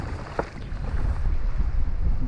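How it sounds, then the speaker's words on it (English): Wind blowing hard over a point on a lake, a rough, gusty rumble buffeting the microphone beside the water, steady throughout. "You can hear the wind coming up over this point"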